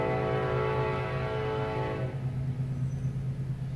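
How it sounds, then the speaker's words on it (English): A train horn blows in the distance, a sustained harmonic blast fading out after about two seconds, followed by a steady low rumble, heard alone without talk. "Train. He'll blow it again."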